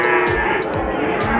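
Cattle moo repeatedly at a busy Indonesian livestock market selling calves and feeder cattle, several loud drawn-out calls overlapping over a constant crowd din and background chatter.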